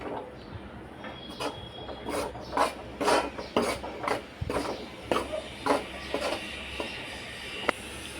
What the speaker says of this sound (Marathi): आता हे आपण मंद आचेवरती भाजून घ्यायचं आहे